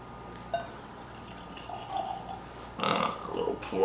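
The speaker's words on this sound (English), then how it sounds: "A little pour in the glass." Chattanooga bottled-in-bond whiskey poured into a glass, a short soft liquid splash and trickle close by, with faint room noise around it.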